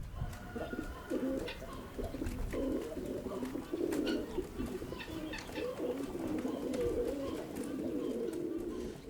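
Pigeons coo repeatedly in soft, throaty, rolling calls, several birds overlapping at close range against a quiet background.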